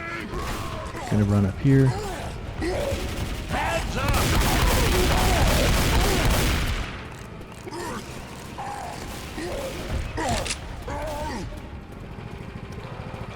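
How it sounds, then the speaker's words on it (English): Gunfire in Left 4 Dead 2 on the Port map of The Sacrifice at Expert difficulty: a sustained rapid burst of shots mid-clip among other game clatter, with a player talking over it. "Just have to shoot him."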